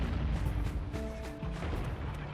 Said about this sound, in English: A lot of explosions here.